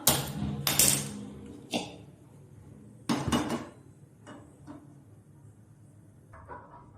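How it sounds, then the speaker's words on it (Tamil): A metal pot clanks down onto a gas stovetop with a couple of sharp knocks, followed by a few lighter clinks and a later rattle, close by. "இப்போது ஸ்டவ் ஆன் பண்ணி பாத்திரம் வச்சுக்கலாம்"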